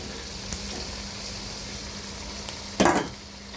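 Coarse ground garlic paste drops into hot oil for a traditional garlic pickle, giving a sudden sharp sizzling burst near the end over a quiet background hiss with a faint steady hum.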